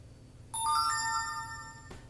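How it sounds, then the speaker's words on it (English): A phone ringtone chimes in with bright, sustained electronic tones, sounding once for over a second before cutting off, fairly close and clear against a quiet room. "Phone in here somewhere."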